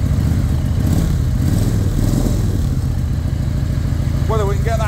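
A 1993 Harley-Davidson Ultra Classic Electra Glide with a 1340 Evo engine runs steadily with a low, throbbing idle, close and loud throughout, and a voice speaks over it near the end.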